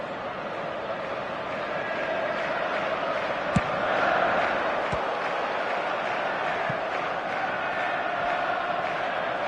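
A football stadium crowd in a video game keeps up a steady, dense roar throughout, swelling briefly in the middle, with a few sharp thuds cutting through the noise.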